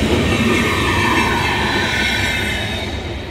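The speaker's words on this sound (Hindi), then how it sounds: "नई दिल्ली से चलकर अलीगढ़ कानपुर के रास्ते गया को जाने वाली महाबोधि एक्सप्रेस" The Mahabodhi Express passenger train, running from New Delhi via Aligarh and Kanpur to Gaya, rushes past at high speed near Aligarh Junction with a loud, continuous roar, wheel squeal and rattling carriages.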